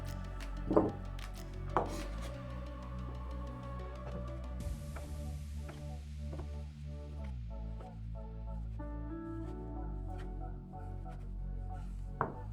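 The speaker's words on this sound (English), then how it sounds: "sausages. Just cut into cube." A knife chops sausages into cubes on a board, with sparse sharp taps spread across the stretch, a couple of them louder, over a steady background of music.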